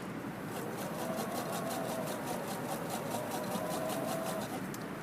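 A sewing machine stitches quilt binding at a quarter-inch seam, running in a fast, even mechanical patter that stays faint but continuous throughout.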